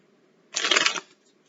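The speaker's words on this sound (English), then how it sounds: "You shuffle these so you have a fresh read." A brief riffle of tarot cards being shuffled, a quick papery burst lasting about half a second, close by.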